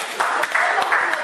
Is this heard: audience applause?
yes